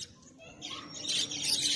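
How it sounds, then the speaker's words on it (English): Small birds, one of them yellow, chirp and twitter along a street in Suizhou, China, a busy cluster of high bright calls building toward the end over soft street ambience. "Oh, those birds are lovely."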